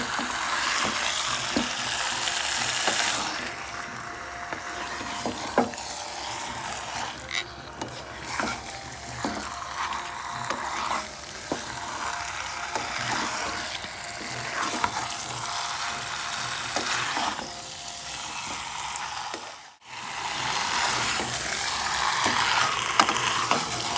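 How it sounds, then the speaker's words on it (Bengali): Chicken pieces being stirred and mixed with spices in a pan, producing a continuous sizzle with repeated scraping and clicking of the spatula, close and steady with a brief pause near the end. "সমস্ত মাংসটাকে আমি মশলার সাথে একদম মিশিয়ে দেব।"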